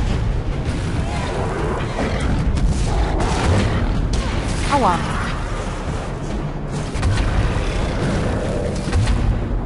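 Repeated heavy cannon blasts from the video game Alice: Madness Returns, booming at a steady pace across the whole stretch, mixed in with dense game effects and a player's voice exclaiming now and then.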